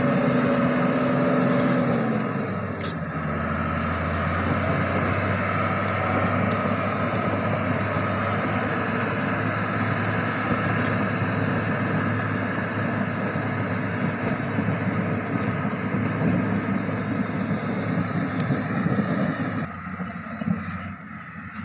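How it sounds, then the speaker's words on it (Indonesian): A Komatsu motor grader servicing a road runs with a steady diesel drone, a higher whine easing off early on, then a long, even engine rumble at moderate distance that drops slightly at the end. "Ini kerja si motor grader ngegrade"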